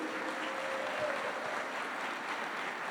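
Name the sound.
congregation applauding the Lord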